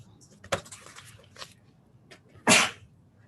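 A short, sharp sneeze bursts out near the end of a court hearing, preceded by quieter sniffs and small breathy sounds.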